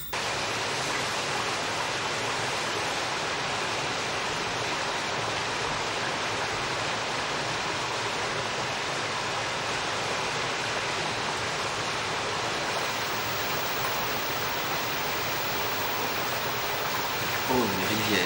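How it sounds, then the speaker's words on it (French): A river flows steadily, a broad continuous rush of water heard alone and evenly throughout with no breaks. "Oh, une rivière."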